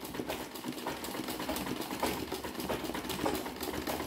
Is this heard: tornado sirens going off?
no